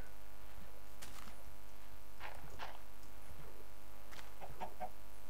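Minecraft chickens give a few scattered short clucks over a steady game background hum, soft and unaccompanied by talk.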